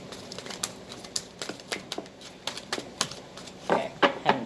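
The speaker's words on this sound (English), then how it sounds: "having difficulty shuffling that" Quick, irregular papery flicks and riffles of tarot cards being shuffled, close by, building to a few louder bursts near the end.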